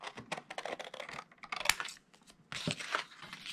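Aqua cardstock trimmed close up, a quick run of small crisp cutting and scraping clicks in two bursts separated by a brief quiet gap.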